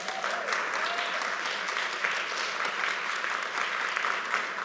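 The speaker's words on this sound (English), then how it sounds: "I think that is called clapping in shul." A congregation claps in a synagogue during S'lichot services, a sustained, moderately loud patter of many hands with a few faint voices rising briefly in the background.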